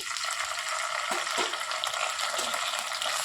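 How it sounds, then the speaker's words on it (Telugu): Ginger garlic paste frying in oil for a coriander chicken curry, giving a dense, loud, close hiss with a few soft stirring scrapes mixed in. "అల్లం వెల్లుల్లి పేస్ట్ ఇట్లాగా నూనెలో మగ్గినప్పుడు టేస్ట్ మంచి టేస్ట్ వచ్చిందండి."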